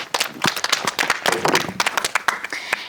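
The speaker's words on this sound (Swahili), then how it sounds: "makofi" Lively hand clapping from a small group, with crisp, irregular claps close by that carry on steadily for a few seconds.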